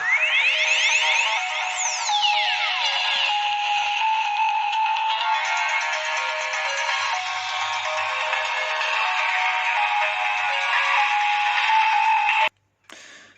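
A Nokia N97 ringtone plays loud and alone with a 3D sound effect, a continuous bright electronic melody with sweeping tones that runs steadily for about twelve seconds, then cuts off abruptly.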